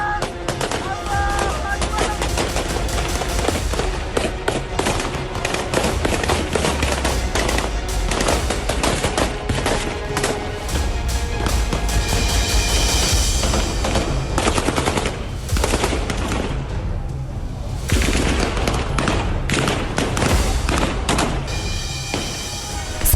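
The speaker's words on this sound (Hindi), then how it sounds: "फायरिंग और गोलीबारी से दहशत में शहर शहर।" Gunfire in a city during the Syrian civil war: dense bursts of automatic fire and scattered single shots crack continuously, some sharp and close, others echoing farther off, with voices heard among them.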